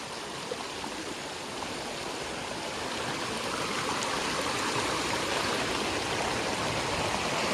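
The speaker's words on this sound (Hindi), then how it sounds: "बहुत बड़ी नदी है दोस्तों यहाँ पे।" Big river in a forested rural area rushing along as a dense, continuous broadband roar of flowing water, steady and close, growing slightly louder midway, with no voices.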